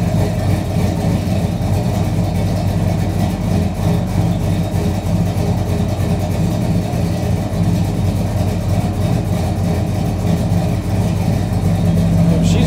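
A long-idle car engine, primed with carb cleaner after sitting three months, runs steadily and loudly throughout with a dense low rumble and mild revving, with no clear start from silence.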